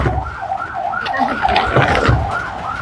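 An ambulance siren wails with a rising and falling tone, fairly loud and steady as it passes, with faint background chatter.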